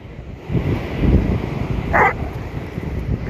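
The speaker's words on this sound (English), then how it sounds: "Beautiful dog." Outdoors in San Diego, a Great Dane gives a single loud bark amid low, rumbling wind noise and soft shuffling.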